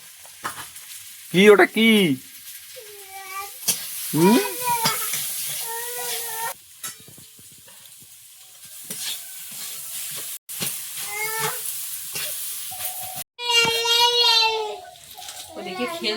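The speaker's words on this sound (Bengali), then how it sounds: "কচুটা দিয়ে একটু নেড়ে নুন আর হলুদ দিয়ে দেবো" Taro pieces stirred and fried in a pan with salt and turmeric, giving a steady sizzle and hiss under the talk of a woman and a child.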